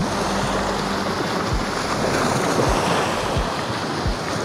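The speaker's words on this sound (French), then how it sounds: "dès que les vagues se seront un peu calmées" Barge wash rolling onto the bank of the Rhône canal in France, a steady rushing surf with repeated low thumps of water hitting the shore, mixed with wind buffeting the microphone, close and continuous, with no voices.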